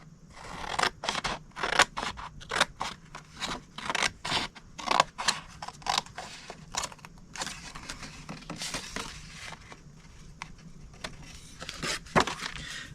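Scissors snipping cardstock along score lines to make a Halloween treat box, a quick series of crisp close-up cuts in uneven bursts with short pauses between them, and no talking.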